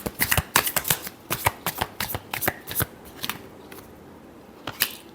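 Tarot cards shuffled by hand in a long series of crisp riffling bursts at an uneven rhythm, close and fairly quiet, with no voice over them.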